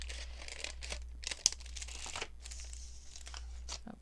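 Scissors snip and crinkle through a coffee-dyed paper CD envelope to cut off its flap, soft close rustling and crunching with a small sharp snip, over a low steady hum.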